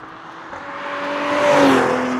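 A 2020 Cadillac CT5-V with a 10-speed transmission accelerating, its engine and exhaust note rising steadily in pitch and loudness, heard from close by with no talking.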